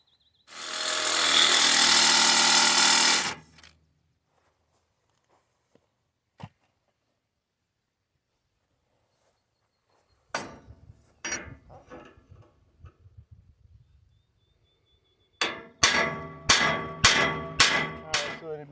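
A thin-metal saw blade cutting through a bolt on a New Holland model 56 rake, one loud steady burst of about three seconds, then silence, scattered clanks, and a later run of rapid metallic strikes.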